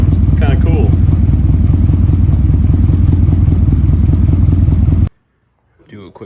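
Nissan 240SX with a cammed engine and ISR Series 2 exhaust, a loud, close, choppy lumpy idle and rumble that cuts off abruptly, followed by brief quieter noise.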